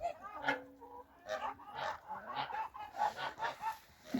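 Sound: geese honking

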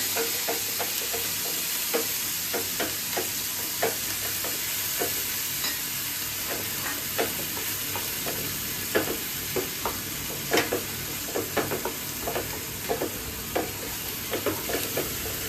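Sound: onion paste being stir-fried in a pan

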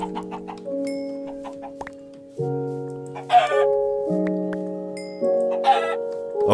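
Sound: chickens clucking in the video game Minecraft Tekkit

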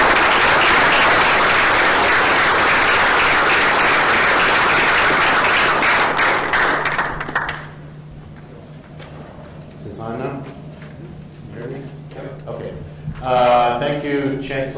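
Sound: audience applause welcoming speaker

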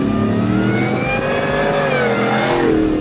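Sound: supercharged Shelby F-150 Super Snake engine revving

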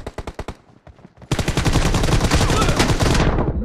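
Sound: gunfire in video game PUBG Mobile

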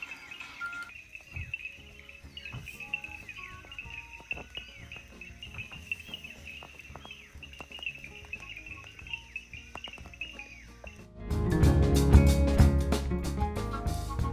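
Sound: painted reed frogs calling at dusk in Botswana

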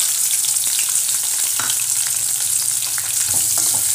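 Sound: onions sautéing in a pan

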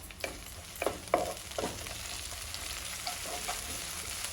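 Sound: mint and coriander leaves frying in a pan

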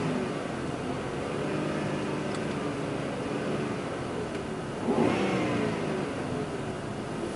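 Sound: 1998 Chrysler engine revving

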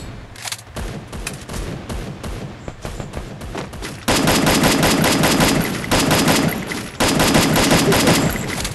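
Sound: gunfire in a video game

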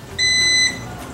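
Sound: ketone breath meter beeping after warm-up

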